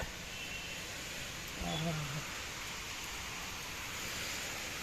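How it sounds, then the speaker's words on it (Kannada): A constant wash of heavy rain hisses throughout around a train on the Talguppa to Mysore line, with a brief voice sounding once partway through. "ಮಳೆ ಸಿಕ್ಕಾಪಟ್ಟೆ ಜೋರಾಗ್ತಿದೆ ಮಳೆ"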